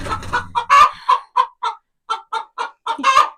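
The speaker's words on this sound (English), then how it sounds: "we are going to go out and take our broody chicken off her nest" Several backyard chickens clucking and squawking in irritation around a broody hen sitting on a nest, a close, steady run of short agitated clucks with a louder squawk partway through.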